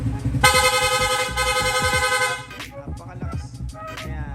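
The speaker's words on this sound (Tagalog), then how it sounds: "Pwedeng loud horn with rapid horn" A loud, blaring motorcycle horn sounds in a sustained burst, then rapid short honks follow over engine rumble.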